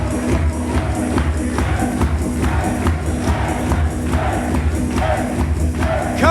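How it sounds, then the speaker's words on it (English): A wrestling event crowd cheers and roars for a champion's entrance at a CCW show in Hialeah, Florida, a steady loud wall of voices with occasional thumps and shouts. "And listen to this crowd."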